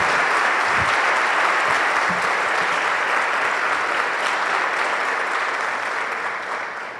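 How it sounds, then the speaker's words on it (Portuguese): Church congregation applauding during a worship service, a loud, dense and sustained roar of many hands clapping together that holds steady for several seconds before easing slightly toward the end. "Vamos aplaudir Jesus, que Ele merece"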